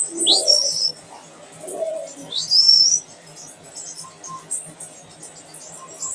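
A racing pigeon arrives at its home loft after a 79 km mountain training flight. Two bright chirping calls stand out, mixed with soft, low cooing nearby, over a quiet background with no talk.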